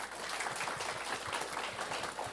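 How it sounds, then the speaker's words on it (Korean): An audience at a corporate engineering job talk event applauds, a dense even patter of many hands clapping throughout. "다시 한번 박수 부탁드립니다"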